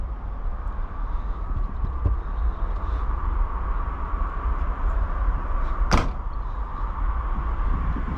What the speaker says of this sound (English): Let's open the trunk.